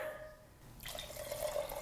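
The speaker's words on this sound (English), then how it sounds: "And a little bit of water." Water poured into a pot of red lentil and sweet potato soup, a soft steady splashing trickle that starts partway through and continues close by, fairly quiet, with no talking over it.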